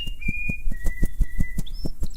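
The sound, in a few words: bluebird whistling Happy Birthday in an animated movie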